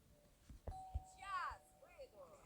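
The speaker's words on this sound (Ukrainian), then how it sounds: "Продовжуємо просто дзвонити в дзвінок" Doorbell rung in the video game SchoolBoy Runaway, a clear ding-dong chime followed by a softer repeated tone, quiet and close, with a few thumps and a voice in the background.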